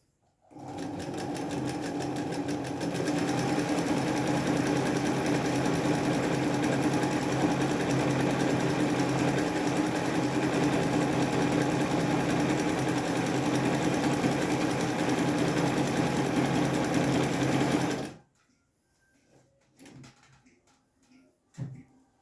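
A Singer Felicita sewing machine runs steadily for about eighteen seconds, stitching a decorative pattern with a loud, even motor whir and rapid needle clatter, then stops, leaving faint handling noises.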